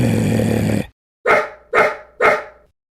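A cartoon dog in a Filipino animation lets out three sharp, loud barks in quick succession after a sustained tone cuts off.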